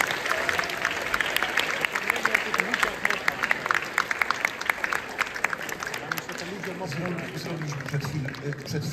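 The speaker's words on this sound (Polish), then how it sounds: "Jeszcze raz wielkie brawa!" Festival audience at a theatre festival closing ceremony, applauding in a long steady wash of clapping, with some voices and crowd noise mixed in and the clapping easing slightly toward the end.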